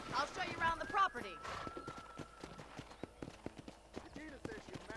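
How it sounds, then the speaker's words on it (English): Horse hoofbeats from the Red Dead Redemption video game on Xbox One X: a rapid, irregular clip-clop of a ridden horse on a ranch property, sounding under talk and game sounds. "let's see if you can still ride a horse"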